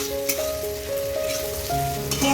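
Two medium onions, finely chopped, fry in hot oil for a Bengali mutton curry, giving a continuous, moderately loud crackling sizzle like light rain, heard alone and close.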